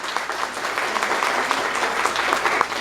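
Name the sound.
audience applause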